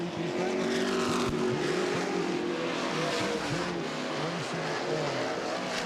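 Late model sportsman stock cars race around the Anderson Speedway oval, their engines roaring and rising and falling in pitch as they pass close by in a continuous loud drone, with brief tire noise mixed in.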